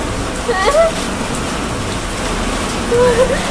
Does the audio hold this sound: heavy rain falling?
yes